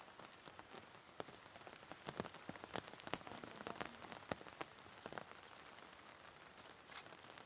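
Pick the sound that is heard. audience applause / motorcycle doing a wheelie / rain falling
rain falling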